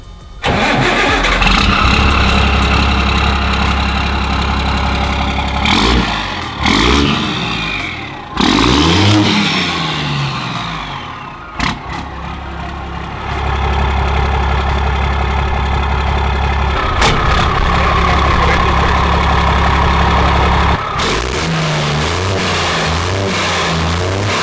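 Turbocharged car with a large 3.5-inch exhaust starting, idling and revving hard, loud and close, with deep steady rumble broken by several sharp throttle blips and dips.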